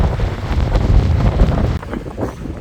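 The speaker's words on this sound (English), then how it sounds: "it's just a little breezy out here" Strong wind buffets the microphone out on a pontoon boat off Charleston, South Carolina, a loud steady roaring gust that eases slightly near the end, with no talking.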